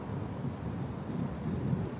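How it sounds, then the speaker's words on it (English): Thunder from an approaching storm rolls in as a steady, low, rumbling roar that stays fairly even throughout, with no voices. "You hear that thunder?"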